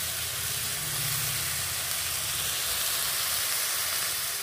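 Potato and pointed gourd peels fry with dried chilli and a few shrimp, a continuous even sizzle and hiss at close range with no voices.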